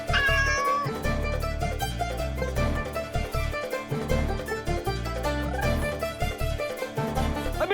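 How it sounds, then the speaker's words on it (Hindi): A cat meows several times in high, wavering calls, and the calls sit under loud, busy background music throughout. "बिल्ली भागी, बिल्ली भागी"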